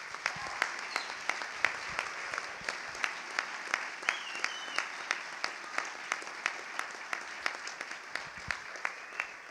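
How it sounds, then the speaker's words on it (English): Outdoor crowd applause for the organizers at a bushcraft gathering, steady clapping with sharp individual claps standing out near the mic, sustained throughout with a faint whistle partway. "Why don't we all give an incredibly appreciative round of applause for all of these people"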